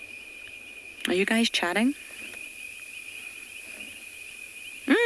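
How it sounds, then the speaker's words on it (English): Crickets and other insects chirp steadily at a South African safari reserve in the afternoon, a constant high trill throughout, while a person speaks briefly over it. "I can hear all the insects."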